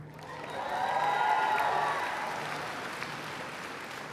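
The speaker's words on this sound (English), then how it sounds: "We're showering her with clips of graduates applauding for her to lure her to Cal State LA to come back to where she started" Recorded applause from college graduates at a commencement ceremony swells into a broad, even wash of clapping with some cheering, peaking early and slowly easing off while staying fairly loud.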